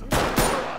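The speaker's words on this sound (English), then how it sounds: "Why are y'all shooting?" Gunfire in the tactical shooter Ready Or Not: two sharp, loud shots less than a second apart, each followed by a short ringing tail, with no speech.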